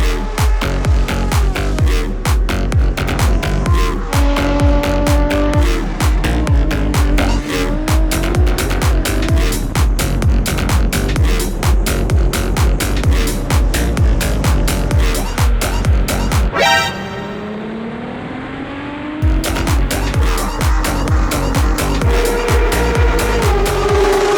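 A Formula 3 (GP3) race car driven at Monza, its engine screaming loud and close through rapid upshifts and revving, with a brief lull near the end before the high-pitched howl returns.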